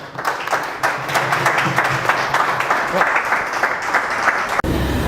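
Steady, loud applause from a conference audience fills the room, dense clapping running without a break before cutting off sharply near the end.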